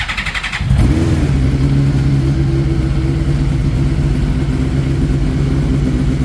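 A race car engine cranks briefly and catches, then settles into a loud, steady, close revving roar with a strong low drone that holds for several seconds.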